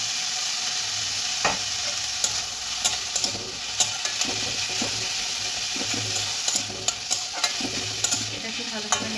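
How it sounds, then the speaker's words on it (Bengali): Chicken with spring onion frying in a pan while being stirred, giving a steady sizzle under a regular series of sharp spoon scrapes and taps against the metal. "এটাকে ভালোভাবে নেড়ে চেড়ে নেব"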